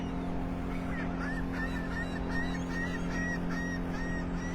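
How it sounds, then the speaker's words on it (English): Laughing gulls calling on a Florida beach, a run of repeated nasal, rising cries at middle distance over steady low background rumble. "The laughing gulls."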